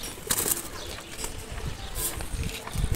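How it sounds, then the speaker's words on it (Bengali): A domestic pigeon held in someone's hands gives brief bursts of wing fluttering, near and fairly soft, separated by quieter rustling and faint cooing. "একটা কবুতর হাতে হাতে দেখাই।"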